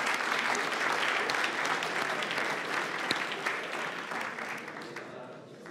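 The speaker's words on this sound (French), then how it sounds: "On les applaudit." An audience applauds a team at a college science event, a thick continuous clapping wash that slowly fades over the final seconds, with scattered crowd voices.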